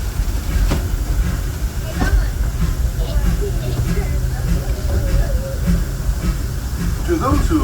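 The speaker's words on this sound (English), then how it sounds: "This train is now ready to depart." A Disneyland Railroad train pulls away with a steady low rumble, hiss and faint clicking of the cars, all continuous and fairly close, with indistinct voices in the background.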